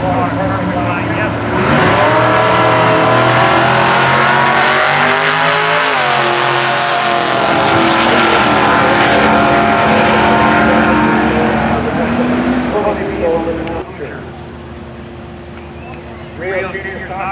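Drag race cars roar loudly at a junior stock event, engines revving hard and sustained with some tire noise, then dropping away toward the end; an announcer's voice is faintly mixed in.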